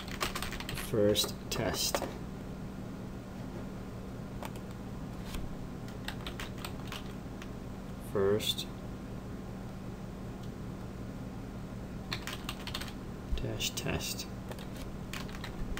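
Keyboard typing at a computer while setting up a password for a new mailbox user on an Exchange 2010 server, with short clustered bursts of key clicks over steady hum and a voice speaking briefly.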